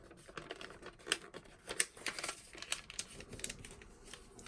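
A sheet of paper being creased and folded for an origami crane, with a run of close crisp crinkles and quick sharp taps, rising in bursts and then settling, and no one speaking.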